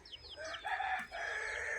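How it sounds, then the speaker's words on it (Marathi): A Kadaknath rooster on a country poultry farm gives a short crow with clucking from other fowl, moderately close, with no talk. "हा कडकनाथ कोंबडा आहे"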